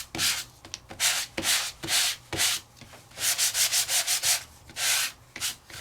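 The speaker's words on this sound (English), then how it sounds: "you may want to sand both sides to see what they both look like" Sanding a die-cut piece from a Sizzix die-cutting machine, heard as repeated rough rubbing strokes in uneven bursts, with a quicker run of short strokes near the middle, close and fairly loud with no talking.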